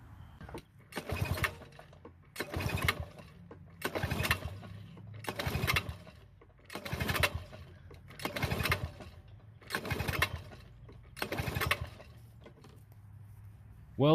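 A Toro commercial mower engine cranks about eight times in separate rhythmic bursts, each a loud churning whir followed by a brief pause, and never catches or runs.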